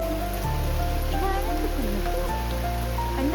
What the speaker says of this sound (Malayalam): നല്ല വെയിലുണ്ട്, അതുപോലെ നല്ല മഴ പെയ്യുന്നുണ്ട്.